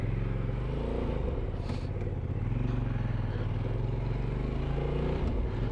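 A QJ Motor SRK900 motorcycle under way, its engine droning steadily up close with rising and falling revs, road and wind noise mixed in throughout.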